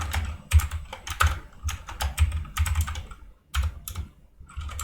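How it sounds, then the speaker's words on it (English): Steady typing on a computer keyboard, close and fairly loud, with rapid clustered keystrokes broken by a few brief pauses. "I'm just typing this."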